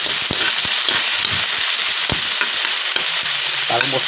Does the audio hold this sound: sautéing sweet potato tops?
yes